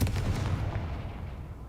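The Confringo fire spell in Hogwarts Legacy lands as a heavy, booming blast with a deep rumbling low end, loudest at the start and decaying over under two seconds.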